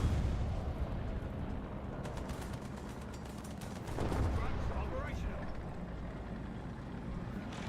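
Tank guns in War Thunder thunder through a dense, rumbling battle din, with one heavier boom swelling up midway and a low, continuous roar underneath, while faint talk may blend into the mix.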